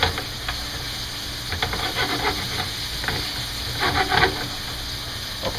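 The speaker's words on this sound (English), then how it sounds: "So we're just going to let that saute." Chicken legs sauté in a hot pan, a steady close sizzle and crackle with scattered stirring clatters and spatula scrapes, some louder bursts of frying near the end; no talking.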